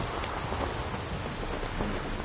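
Rain falls steadily in The Witcher 3: Wild Hunt, a dense, even patter of drops on surfaces with a faint low rumble beneath it and no talking.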